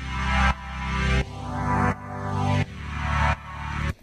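Sustained synth pad chords with built-in sidechain pump rhythmically, each swelling up then dropping sharply in a steady repeating pulse, loud and alone without any voice.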